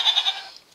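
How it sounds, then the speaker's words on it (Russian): A goat in a video game farm gives a short, nasal bleat, a single quick wavering call that fades out within a second. "козлы"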